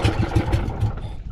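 Engine of a small Philippine fishing boat out on the Pacific chugs steadily up close, its low pulsing beat even and unbroken throughout.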